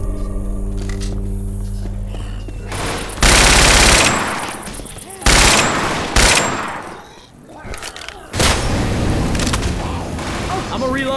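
A chain gun in the video game Left 4 Dead 2 fires loud rapid bursts, dense automatic gunfire broken by short pauses, with other game noise around it.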